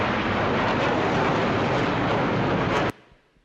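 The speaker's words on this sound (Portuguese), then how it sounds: "eram os aviões da Força Aérea." Air Force military planes pass overhead during a military rehearsal in a city centre, a loud, steady broadband roar that fills the whole stretch before cutting off abruptly near the end, leaving faint background.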